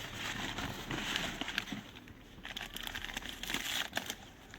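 Newspaper wrapping being unwrapped from a package of hatching eggs, with close, uneven crinkling and rustling of paper that rises and falls in bursts for a few seconds.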